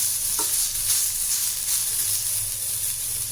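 Chopped tomato sautés in a pan for coconut milk rasam, an even, close hiss and sizzle that holds steady throughout with no voices.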